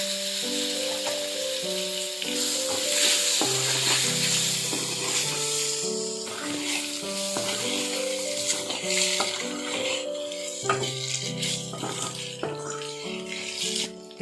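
Cut boiled eggs fry in a pan for egg sukka, a steady close sizzle with scraping stirs, while tonal music plays over it throughout.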